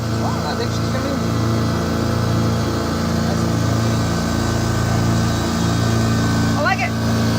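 A Champion 4000-watt RV-ready portable inverter generator runs steadily at close range, a constant buzzing engine hum with faint brief chirps over it.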